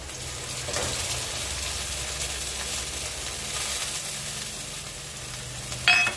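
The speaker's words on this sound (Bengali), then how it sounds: "পেঁয়াজটা আমার ভাজা হয়ে গেছে, মিক্সিতে যে বেটে নিয়েছি আমি কলার চোকলাটা এর মধ্যে দিয়ে দিচ্ছি।" Ground banana peel paste frying with already-fried onions in a pan, a steady close sizzle holding throughout with a brief louder scrape near the end.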